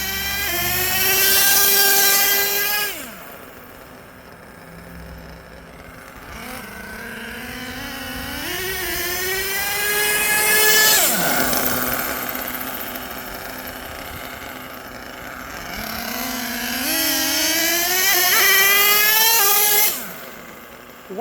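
HPI Savage XL RC car powered by twin LRP .32 nitro engines, a three-speed truck screaming loud and close, revving up in rising whines through the gears, easing to lower idle-like drones between full-throttle bursts.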